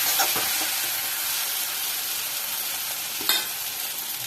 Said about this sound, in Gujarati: ચાટ મસાલો નાખ્યા પછી આપણે એને હલાવી દઈશું.